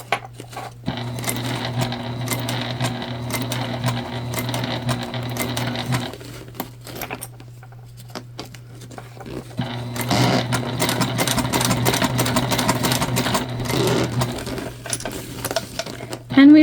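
A sewing machine stitches a tote bag in two long, close runs with a quieter pause between them. A steady motor hum sits under the rattle of the stitching, with a sharp knock at the very end.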